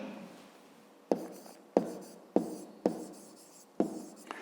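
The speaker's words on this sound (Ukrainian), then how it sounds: "Пишемо відповідь." Chalk tapping and scraping on a classroom board, five or six sharp strokes at irregular intervals, each followed by a short trailing scratch, close and fairly quiet with no talking.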